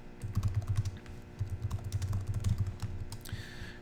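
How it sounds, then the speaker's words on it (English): Typing on a ThinkPad laptop keyboard on Arch Linux, with quick clustered keystrokes in a light rapid rhythm and a brief pause midway, close and faint with no talk. "I can go to Hello YouTube and I can hit enter and it enters the task."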